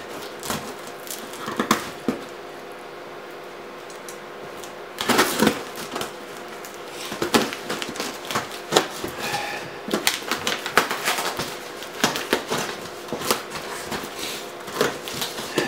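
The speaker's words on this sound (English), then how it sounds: "Let's get rid of this packing tape." Packing tape being peeled off a courier parcel holding an Xbox One console, a quiet stretch broken by sharp rasping rips and crackles that cluster densely in the second half, close and alone.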